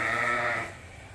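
A single sheep lets out a short, loud bleat close by in a barn during fall lambing, the call fading out abruptly with no talking.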